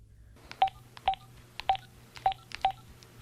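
Touch-tone keypad of a landline telephone being dialed, five short evenly spaced beeps with faint button clicks over a low background hum.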